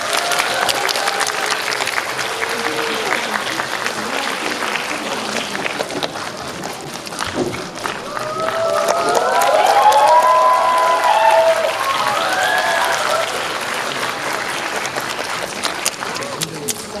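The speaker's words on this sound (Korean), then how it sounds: "박수로 뜨겁게 맞이해주세요." A cinema audience at a live stage talk for a film screening gives sustained applause that swells in the middle with some cheering, while a host's voice carries over the clapping.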